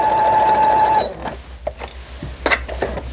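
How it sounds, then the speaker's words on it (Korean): A Brother XL-9500 sewing machine under repair runs a steady stitching burst for about a second, loud and close, then stops, leaving quieter mechanical clicks and handling knocks. "요 바느질은 해봐요"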